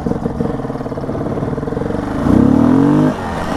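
A 660 motorcycle engine runs close up with a steady throbbing idle, then revs up briefly with a rising pitch and drops back to idle, loud and alone.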